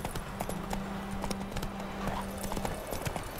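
Horse hooves clip-clop steadily in The Witcher 3, a quick rhythmic trot of faint hoof knocks with a soft sustained tone running beneath, no voices.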